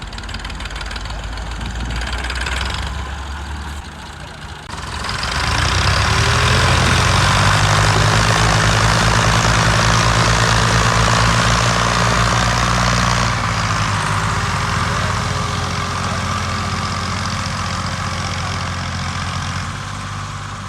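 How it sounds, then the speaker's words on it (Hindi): A tractor engine runs steadily in an open field during the maize harvest, a loud low drone with a quieter idle for the first few seconds before it revs up and holds, wind noise across the top. "तो अब ट्रैक्टर निकल चुका है"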